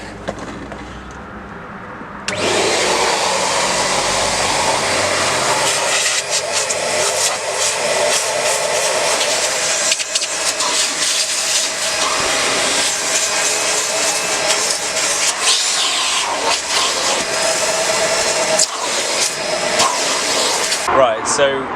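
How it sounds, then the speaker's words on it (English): A hoover starts up and runs continuously while vacuuming the seats of a Ford Fiesta ST, a loud steady whine with shifting pitch as the nozzle moves over fabric and into crevices. "get the hoover in and suck it all back out"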